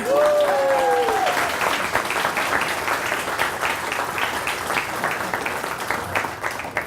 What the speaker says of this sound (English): Clap, hoot, holler, scream and cheer.